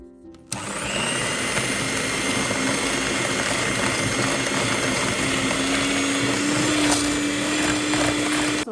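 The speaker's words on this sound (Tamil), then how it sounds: "ஸோ இதை முதல்ல நாங்கள் பீட் பண்ணோம்." Electric mixer beating butter and caster sugar for a red velvet cake, a steady loud whirring motor drone that runs unbroken from a sharp start, with faint scraping in the bowl.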